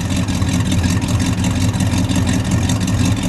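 A red 1963 Studebaker Gran Turismo GT Hawk with the R2 engine runs steadily up close, a loud, even low rumble with no breaks and no talking.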